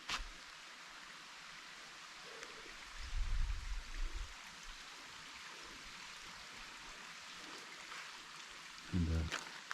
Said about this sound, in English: The shelter sits right above a little creek that's running.